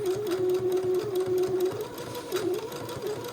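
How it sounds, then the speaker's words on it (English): A sewing machine runs steadily, stitching entre-deux lace onto a rectangular piece of fabric; the motor hums continuously at a close, even level with slight pitch dips and no speech. "I need to finish this side and sew my entre-deux to the other side"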